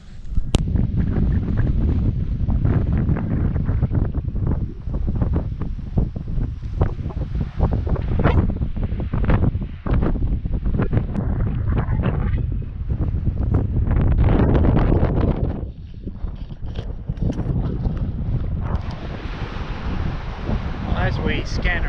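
Strong wind buffets the microphone on an open beach in gusty, roaring bursts that rise and fall, with someone speaking over the blustery noise.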